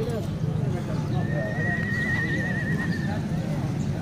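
A mare at a horse market in Mandi Aminpur Bangla gives one long, clear whinny midway, with hoof clip-clops and voices chattering in the background.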